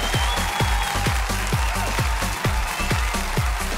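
Audience at a live opera competition show claps in rhythm over loud music with a thumping beat, a dense continuous wash of applause backing performers' steps, no pauses.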